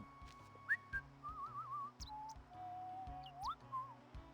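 A character whistles a wandering melodic tune in the video game Final Fantasy X, moderately loud and clear over a soft rhythmic background loop, with no speech.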